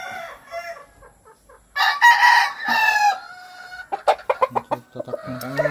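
An eight-month-old Sweater gamefowl rooster of the Raptor line gives one loud, close crow, followed by a rapid series of sharp clucks.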